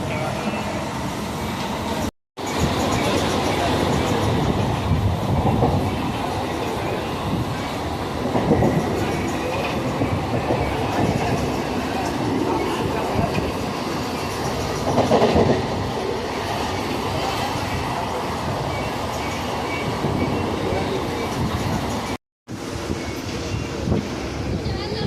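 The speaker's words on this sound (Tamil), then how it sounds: "ட்ரெயின் ஜர்னி மட்டும்தான் இது" A rail carriage rumbles along steadily for a long stretch on a train journey toward Tirupati, with clickety-clack of wheels over track joints and wind noise, the sound cutting out briefly twice.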